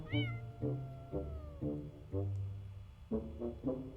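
A cat meows repeatedly inside the video game Impostor Factory, with about seven clear, drawn-out calls in a steady sequence. The meows sound close and fairly loud against a quiet background, and no one speaks over them.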